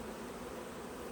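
Honey bees buzzing around a hive during fall preparation for winter and honey harvest, a faint, steady hum with no breaks, close by and without voices.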